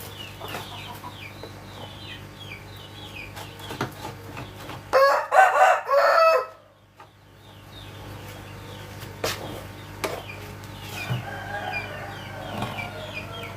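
A rooster in a home livestock yard crows once, loud and close, over quiet ambient noise, with a few soft clucks and scattered farmyard sounds around it.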